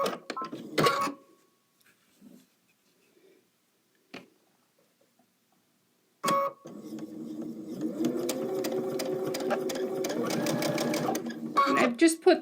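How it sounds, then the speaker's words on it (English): A sewing machine stitching quilt block squares runs in a steady loud mechanical whir for several seconds after brief clicks and handling sounds, with a pause and a couple of clunks near the end. "All right, so here we are at the sewing machine."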